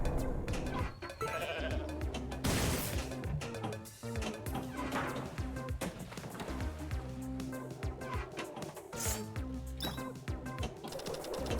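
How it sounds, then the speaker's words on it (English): Goat bleats from a Goat Simulator pinball table ring out amid busy, loud game music and machine sound effects, with brief talk mixed in. "Did that goat just do a 360?"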